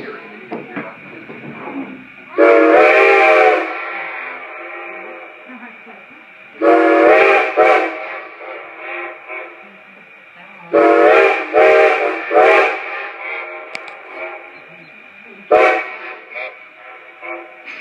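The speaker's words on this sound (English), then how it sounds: "Listen carefully now for that legendary ghost whistle." Steam train whistle at Strasburg Rail Road, Pennsylvania, blowing four loud, long harmonic blasts with quiet gaps between, heard close by over faint background murmur.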